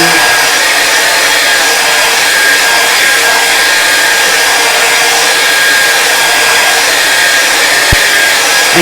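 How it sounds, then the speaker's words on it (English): A hair dryer blasts steadily to dry fresh paint on a canvas, a loud, even, unbroken whoosh close by that holds for the whole stretch with no talking. "We're just gonna dry this really quickly."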